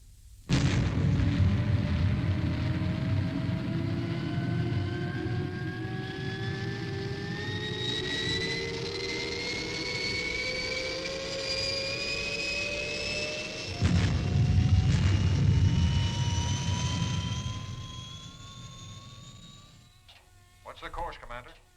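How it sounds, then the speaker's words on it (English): Fireball XL5 spacecraft lifting off as a sci-fi sound effect: a loud, sustained engine roar with steadily rising whining tones that climbs for about twenty seconds, then fades and cuts out near the end. "Clear for liftoff, Steve."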